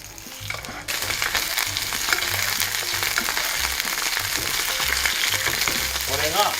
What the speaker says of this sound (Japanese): しっかり味の馴染んだ鶏肉の皮を下に入れます。